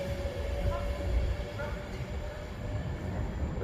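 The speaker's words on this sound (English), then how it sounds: "the Avanti West Coast now leaving." Avanti West Coast train pulling out of Birmingham International station on the West Coast Main Line, a steady low rumble of rolling stock with faint squeal tones, continuous and moderately near throughout.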